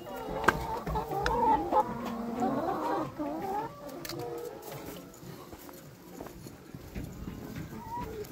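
Chickens on a farm cluck and call in a busy, moderately near chorus, with faint ambient noise and scattered movement throughout.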